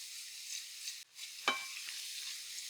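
Mushrooms sauté in butter in a pan, giving a soft, steady sizzle broken by a brief stir and one sharp scrape or clink near the middle, with no talking.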